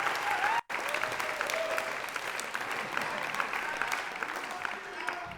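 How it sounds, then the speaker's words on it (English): Recorded applause from a live audience plays at the end of a file in Logic Pro, a soft, steady patter of many hands clapping at moderate distance after a brief silent gap, with faint voices mixed in. "Should be just a bunch of applause."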